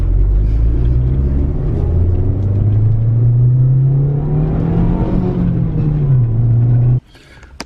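A VW MK4 GTI pulls away in first gear after a transmission bushing repair, its engine droning loud and steady as revs rise and fall, then cutting off abruptly near the end.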